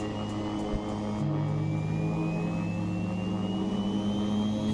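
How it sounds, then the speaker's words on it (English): Engine number 2 starts up on an aircraft in the X-Plane 11 flight simulator once fuel is introduced: a loud, steady jet-like whine that climbs gradually in pitch as it spools up, over a constant low drone. "And let's go ahead and start engine number"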